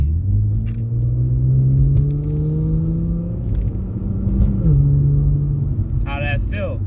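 Infiniti Q60 twin-turbo car accelerating hard through a quick pull, its engine note climbing steadily in pitch before a gear change, loud and close from inside, with brief voices near the end.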